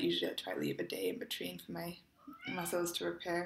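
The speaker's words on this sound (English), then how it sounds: "my cat is meowing" A pet cat meows in the background while someone talks over it almost the whole time; the meows sit faint and intermittent beneath her steady indoor speech.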